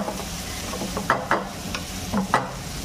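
Chopped tomatoes fry for a chicken curry with a soft steady sizzle, while a spoon stirs and scrapes the pan in a few distinct close strokes.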